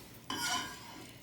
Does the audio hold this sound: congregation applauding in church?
no